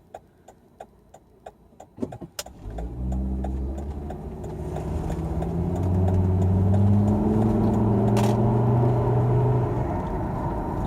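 A Volvo XC90 T5 engine, just repaired after a misfire, turns over and settles into a steady, smooth idle that swells to a louder, even drone, heard alone with no talking.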